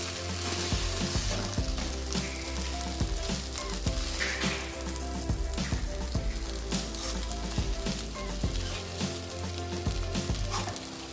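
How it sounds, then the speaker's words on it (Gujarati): Sabudana khichdi with boiled potatoes stirred in a hot pan, a constant loud sizzle broken by repeated sharp scrapes and knocks of the spoon against the pan, close, with no talk. "હવે તેને સારી રીતે મિક્સ કરી લઈશું."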